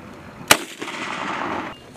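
Carl Gustaf M3 recoilless rifle firing: a single sharp, loud blast cracks out, followed by a rumbling, rushing tail that fades over about a second, heard alone without speech.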